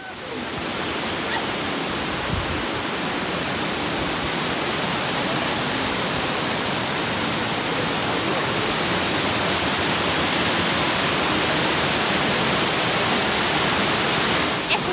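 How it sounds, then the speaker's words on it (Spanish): Waterfall at Salto Piraretá in Cordillera, Paraguay, a loud, continuous broadband roar of falling water that stays steady and close from start to finish. "Lo que es el sonido de esta hermosa cascada"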